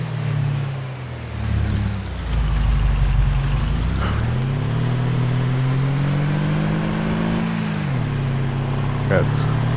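A farm vehicle engine in Farming Simulator 22 runs steadily throughout, dropping in pitch and then revving back up twice as it accelerates, loud and close with no one speaking over it.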